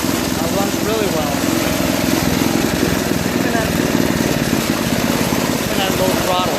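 A Tecumseh engine on an old Toro 521 two-stage snowblower runs steadily after a carburetor screw adjustment, giving a loud, continuous, even mechanical drone with no breaks.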